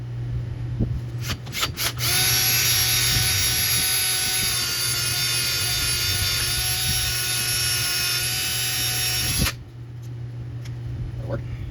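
A power drill whines at high speed for several seconds, drilling out pop rivets on a Triumph TR6 heater box, close and loud, after a few short clicks, then stops abruptly.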